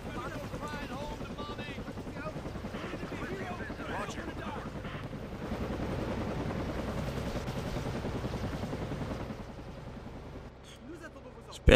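A helicopter's rotor and engine drone runs steadily in the Sudden Strike 2 video game, mixed with wind-like noise. Someone talks over it, and there is a sharp sound at the very end.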